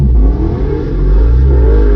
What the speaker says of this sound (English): That sounded like the engine falling to pieces,